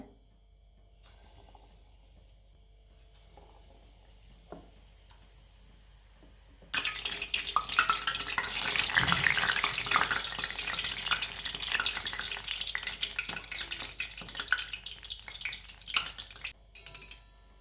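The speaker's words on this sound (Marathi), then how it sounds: "आता आपलं तेल तापलेलं आहे तेलामध्ये वडे सोडून घेऊया" Potato vadas dropped into hot oil burst into a loud, dense deep-fry sizzle after a quiet start, the crackling bubbling steadily and close for the rest of the stretch.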